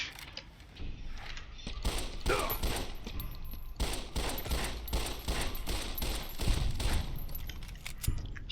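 Rapid gunfire in Fallout: New Vegas, a dense run of repeated shots in close succession with mechanical clicks and rattles between bursts, moderately loud.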